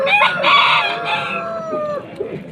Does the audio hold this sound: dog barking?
no